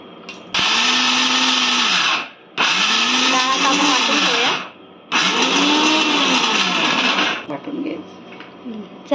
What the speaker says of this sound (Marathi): आता तिला वाटून घ्यायचं आहे आणि लसूण आणि मिरचीसुद्धा वाटून घ्यायची.